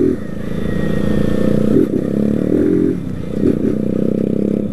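Honda CG 160 Fan motorcycle from 2022 fitted with a sport exhaust, its engine idling and blipping with a loud, steady rumble that swells in short revs throughout.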